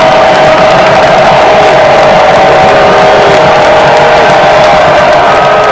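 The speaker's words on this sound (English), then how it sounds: "Crowd making noise on 3rd and" Stadium crowd roaring at a college football game between Delaware and Western Kentucky on third and 15, a steady loud wash of cheering and noise sustained throughout with no break.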